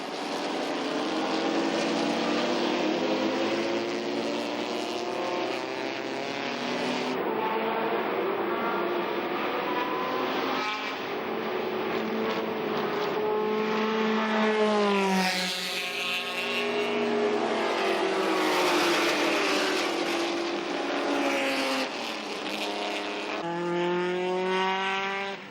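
Racing cars roar past continuously at Watkins Glen as the race resumes after a safety car period, engines rising and falling in pitch as they pass, loud and close with no talking.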